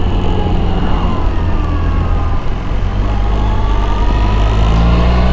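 A Suzuki Burgman 650 Executive scooter rides along a small back road, its engine and road noise a steady, loud drone with wind rush throughout, alone without voices.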